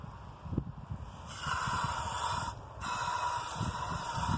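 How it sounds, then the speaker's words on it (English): A can of freeze spray hisses steadily in two bursts onto a rusty cylinder, the second after a brief pause, close to the microphone. "Let's give this thing a spray with this freeze first."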